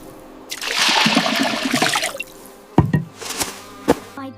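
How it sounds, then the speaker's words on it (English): Water pours and splashes as a bucket is filled at a stone well, a rushing stream for about two seconds followed by several sharp drips and knocks. "She lowered the bucket, filled her jug carefully, and sat on the edge to rest a moment."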